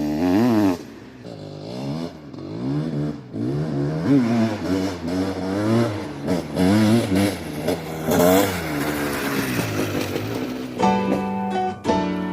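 A Honda CR500 motorcycle engine revs again and again in rising and falling bursts, loud and close, ending in a sharp high-pitched blip.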